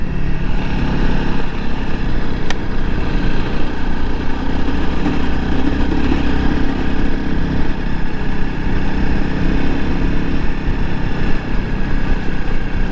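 A Honda CRF300L Rally dual-sport motorcycle engine drones steadily while riding on a road, a loud, continuous close-up hum with wind roar and no breaks across the whole stretch.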